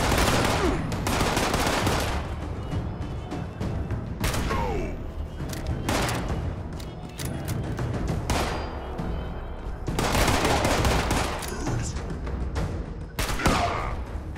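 Hunting rifle gunfire in the video game Fallout 76, loud repeated shots in bursts, some spaced seconds apart, with clattering mechanical handling and game ambience between them.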